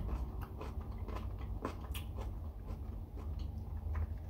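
Someone bites into a crunchy, slightly underripe nectarine and chews it, making a close, quiet series of crisp crunching bursts at an irregular rhythm.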